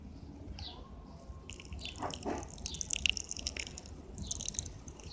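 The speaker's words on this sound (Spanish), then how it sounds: "Entonces ahora vamos a poner un poquito de agua." Water trickles and drips from a watering can onto freshly sown cilantro seeds in an urban organic garden bed, soft at first, then a patter of close droplets.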